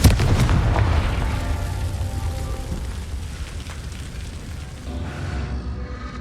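A Confringo fire spell bursts in the Hogwarts Legacy video game: a loud, booming blast right at the start that rolls off into a long, rumbling decay.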